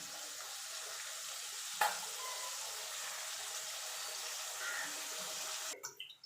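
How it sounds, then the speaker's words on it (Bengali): Oil heating in a pan for a Bengali fish chorchori, giving a steady close hiss of frying that runs throughout with one brief clink early on and some handling noise near the end. "তেলটা দিয়ে তেলটা একটু ভাজা ভাজা করে নেব"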